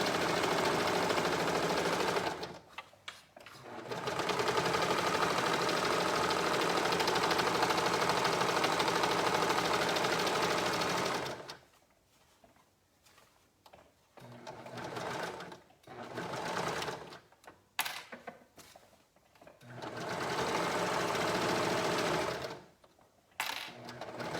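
A sewing machine runs in steady bursts of rapid stitching, a long continuous run followed by several shorter stops and starts.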